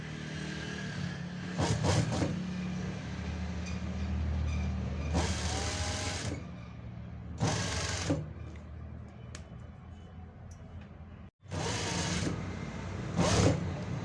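Sewing machine stitching piping onto a square neckline in several short bursts separated by pauses, each run steady and mechanical at close range, fairly quiet overall.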